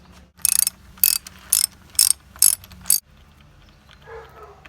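A socket ratchet clicks in six quick, loud bursts while loosening a spark plug on an outboard engine, followed by a brief quieter handling rustle.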